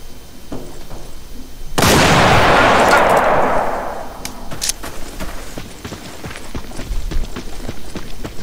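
A single loud 12-gauge shotgun blast fired at a rat in the survival game Stay Out, a sharp boom with a long, rumbling decay, followed by quieter footsteps and shuffling game sounds.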